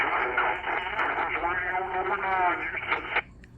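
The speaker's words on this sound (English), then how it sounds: "These guys are on sideband, that's why they sound like this" Single sideband CB transmissions received on a Radtel RT-920 handheld radio: band-limited, garbled voices with a distorted, pitch-shifted quality fill the clip continuously, then cut off abruptly near the end.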